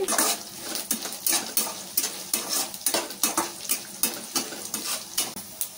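White onions and garlic frying in oil in a pan for a capsicum stir-fry, with a steady sizzle under repeated rhythmic stirring scrapes and clinks of a spoon against the pan, close and fairly loud.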